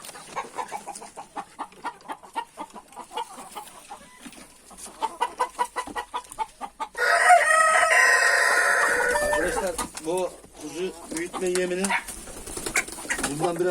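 Chickens in a coop cluck in quick, close bursts, then a rooster lets out a long, loud crow midway, followed by more clucking and hens' calls as a person speaks softly nearby.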